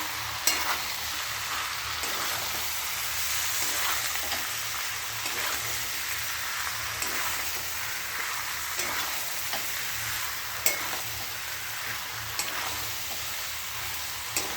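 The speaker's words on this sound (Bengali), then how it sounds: "কষাই নিচ্ছি।" Spice masala fries in a pan under a dense, even sizzle, with occasional light knocks and scrapes of a spoon stirring it, close and steady, no speech.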